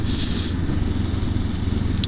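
Honda CL500 motorcycle engine running on a demo ride, a steady low burble heard up close with faint clatter and a brief high tick near the end, no voices.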